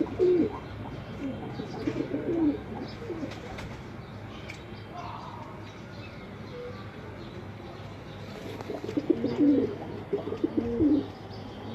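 Breeder pigeons kept in a loft give soft, throaty coos in two clusters, one at the start and another near the end, with someone talking nearby and faint chirps in between.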